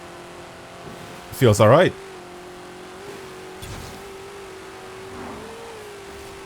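Steady car engine hum while driving in Forza Horizon 4, a low sustained drone with slight pitch shifts, under a voice briefly talking over a burst of louder sound.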